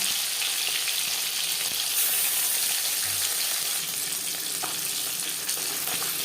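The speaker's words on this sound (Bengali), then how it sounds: "বেলে মাছ নরম মাছ সাবধানে ভাজতে হবে" Bele fish frying in hot refined oil, a loud, dense, continuous sizzle and crackle close up, with no talking.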